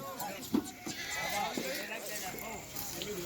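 Goats bleat now and then amid a busy crowd of voices and general commotion on a goat farm, the animal calls partly buried under the chatter.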